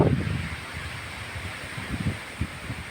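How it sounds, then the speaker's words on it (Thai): Strong wind gusting outdoors before a rainstorm, with loud broadband rushing and low buffeting thumps on the microphone that come and go throughout, with no voices. "ลมแรงนะครับ ดูเมฆบนท้องฟ้านะฮะ"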